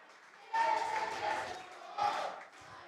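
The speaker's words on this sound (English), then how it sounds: "You can hear the crowd chanting." A pub crowd chants and roars in two loud surges at McGoldrick's Pool and Sports Bar in Glasgow as the Scottish Open pool champion lifts the cup, with voices blending into a dense, close wall of sound.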